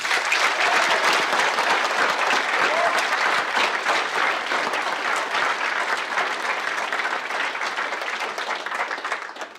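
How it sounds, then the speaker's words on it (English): Audience applause for graduating seniors at a spring high school band and choir concert: a dense, steady wash of clapping from a large crowd that holds for nearly ten seconds, then fades at the very end. "Give them a round of applause."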